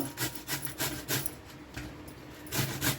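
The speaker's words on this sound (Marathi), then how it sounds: "आता ह्या पद्धतीने बघा असा सगळा किसून घ्यायचा।" Fresh bottle gourd rubbed against a hand grater for halwa, a quick rhythmic rasping scrape repeating several times per second, close and fairly soft with no talking.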